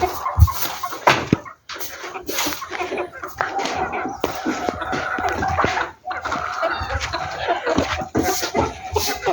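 Rooster and chickens out in an open field with scattered clucks and rustling movement, along with splashy, slapping noises and a person talking nearby.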